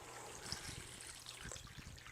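Water runs steadily into seed-starting reservoirs, a soft continuous trickle and splash heard up close with no talking.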